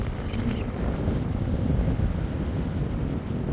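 Strong wind blowing across the shore at the Lazuli Hotel in Marsa Alam, Egypt, a constant loud rushing buffet against the microphone mixed with surf, steady throughout and without speech.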